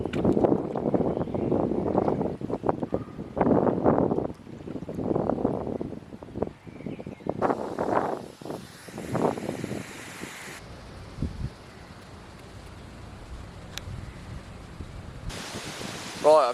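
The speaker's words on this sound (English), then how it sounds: "It's a nice day, but it is windy" Gusty wind buffets the microphone in broadband rushes, with stretches of outdoor noise and a brief voice partway through.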